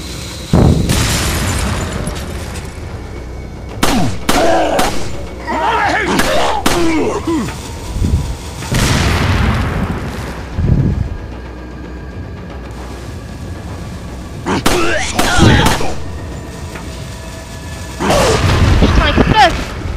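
Explosions in Resident Evil 4 game action, several loud booming bursts spaced through the stretch with gunfire-like pops and clatter between them, heavy low rumble at each blast.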